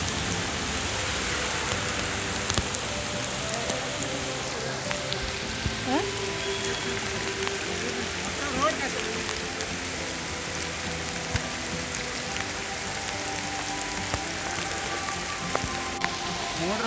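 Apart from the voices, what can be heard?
heavy monsoon rain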